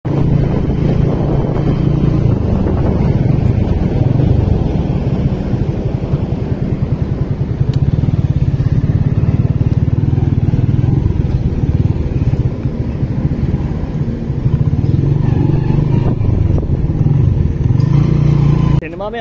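A motorbike rides through a Pakistani city, its engine giving a constant low drone mixed with buffeting wind noise, with voices talking over it now and then.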